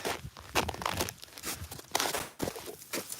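Footsteps crunch on a trail wearing trail shoes, a quick irregular series of dry, crackling steps close by, with no talk.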